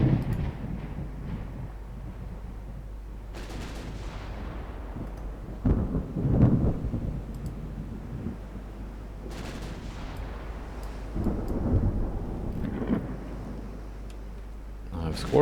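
Naval guns firing in a 1954 Norwegian campaign naval video game: several deep, booming reports spread across the stretch, some in quick pairs, rumbling under a low continuous hum with a voice talking between shots.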